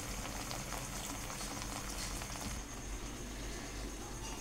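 Potato bhaji deep-frying in hot oil over a medium flame, a dense, even bubbling hiss that holds steady throughout, faint and without any talk.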